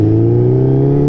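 A vintage Yamaha six-speed motorcycle engine holds a loud, close, steady rev, its tone climbing slightly over a short burst with no talking.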